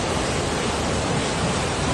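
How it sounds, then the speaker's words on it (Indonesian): The flooded Lim River in South Sumatra rushes past in a fast, powerful current, a loud, unbroken roar of churning water with no voices. "Sungai Lim ini yang arusnya kencang, bahkan aliran sungainya berpindah"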